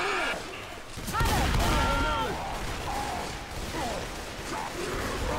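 Gunfire on the Tank in the video game Left 4 Dead 2 rattles in dense, continuous bursts at close range, mixed with crashes and game effects under talking voices.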